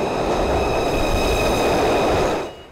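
A subway train rumbles loudly through an underground station, a steady broad roar with metallic ringing tones, then quickly fades away near the end.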